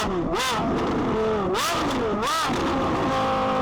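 A Porsche Carrera GT's V10 revs hard through the gears in repeated rising and falling surges, loud and close, with brief pauses between pulls.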